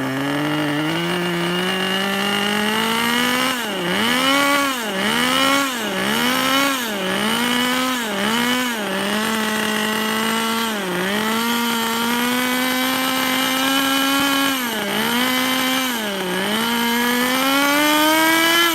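HPI Racing Nitro RS4-2 RC car nitro engine running, a loud, close, buzzing high-pitched whine that stays steady and then rises and falls in a series of quick revs.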